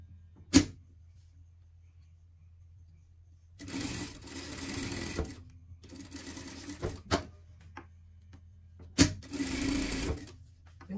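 A sewing machine stitches a seam on a dress in short bursts, with a sharp tap at the start and some clicks between runs, close but moderately quiet over a low hum.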